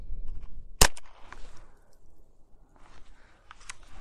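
A single sharp crack from a GSG-15 .22lr rifle fired during a range drill, close and loud against a quiet outdoor background with faint rustling afterward.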